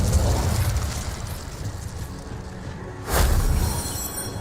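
Fire spell cast in a Hogwarts Legacy game, a roaring whoosh of flame over a rumbling bed of sound, swelling into a sharper burst near the end.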